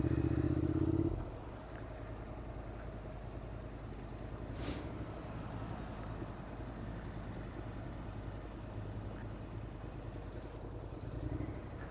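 A motorcycle creeping along at about two miles an hour gives a low, steady engine rumble at moderate level after a brief louder burst at the start, with no talk over it.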